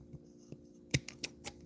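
Scissors trim the back of a small sticker decal, a few quiet, crisp snips close up, spaced irregularly in an otherwise hushed room.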